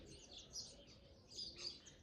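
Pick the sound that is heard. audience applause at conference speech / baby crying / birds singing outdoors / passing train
birds singing outdoors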